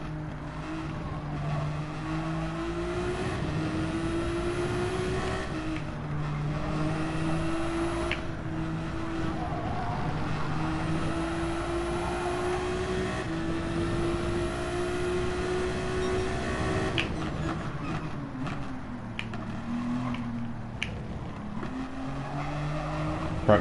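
Hypercar engines roar steadily through a racing lap in Gran Turismo 7, with rising and falling gear-change whines, brief tire squeals and a rougher burst near the end, loud and continuous without speech.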